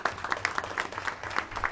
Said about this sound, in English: So just a round of applause on the kids